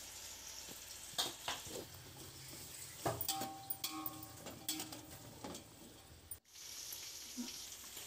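Onions and green chillies fry in oil in a home kitchen, a low sizzle broken by irregular clicks and ladle taps, with a brief dropout near the end.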